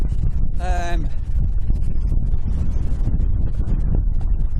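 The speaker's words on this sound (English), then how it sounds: "the wind is unbelievable" Strong wind buffets the microphone steadily throughout a ride on a DYU A5 14-inch foldable electric bike, a low continuous roar with a brief whistling tone early on.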